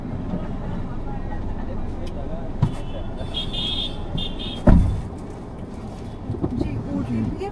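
Taxi car driving through city streets toward New Market, a steady in-cabin road and engine hum under a driver's ongoing talk, with a few brief knocks and a short beeping sound midway.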